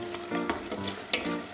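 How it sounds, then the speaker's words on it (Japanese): Close, steady sizzling from a hot pot of tripe stew with wine, with a few sharp scraping clinks as a utensil stirs through the contents. "軽く混ぜてあげましょう。"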